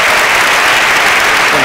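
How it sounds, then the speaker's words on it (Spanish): A large audience at a science awards gala applauds in a loud, dense, steady wash of clapping that fills the hall without a break. "y este aplauso sirve para reconocerlo."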